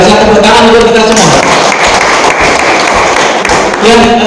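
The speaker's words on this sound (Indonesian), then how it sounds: "tepuk tangan untuk kita semua" Applause for teachers at a school gathering (SMP Kartini 2): a dense burst of clapping from a group fills the middle of the clip, with voices speaking just before and after it.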